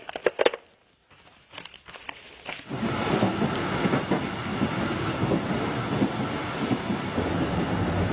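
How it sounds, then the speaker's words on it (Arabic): A train runs along rails with a steady, dense rolling clatter and rumble that starts abruptly after a few seconds of quieter sounds and holds loud and continuous to the end. "السفر بالقطار"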